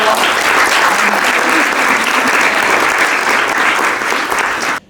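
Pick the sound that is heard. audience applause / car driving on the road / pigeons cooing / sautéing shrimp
audience applause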